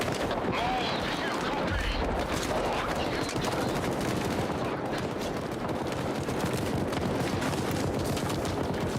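Rapid bursts of gunfire in the video game STALKER 2, dense crackling shots from a firefight near a building, loud and continuous with occasional heavier booms.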